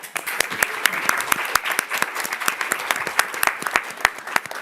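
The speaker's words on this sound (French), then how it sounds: "On les applaudit aussi." Audience applause at a Cannes film press conference, a steady dense burst of clapping from many hands lasting several seconds, close and loud.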